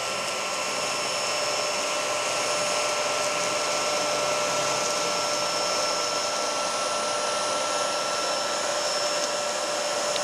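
Homeika P10, a budget cordless vacuum cleaner under $100, runs on a hardwood floor with a steady high-pitched motor whine and airy rush, constant and close for the whole stretch with no speech.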